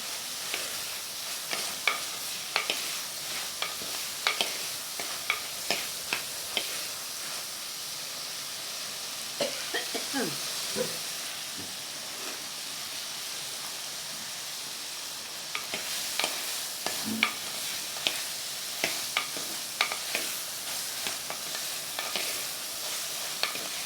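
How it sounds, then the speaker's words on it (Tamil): Eggplant sizzles and fries in a clay pot while a utensil stirs and scrapes repeatedly, sharp clicks punctuating the steady hiss throughout. "கத்திரிக்காவை நல்லா வதக்கிடணும். நல்லா வதங்கினாதான் இது வாசனையே."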